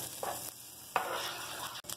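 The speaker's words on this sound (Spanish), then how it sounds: "Ponemos la cebolla y sofreímos un minuto." Onion sautés over lowered heat in melted butter, a soft, fairly quiet sizzle that swells and fades in short bursts, with a sharper stir or clatter near the middle and a brief cut near the end.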